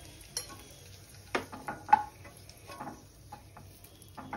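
Raisins dropped into hot ghee for a few seconds while being stirred, heard as faint sizzling under a few light scraping and clinking strokes of a spoon against the pan.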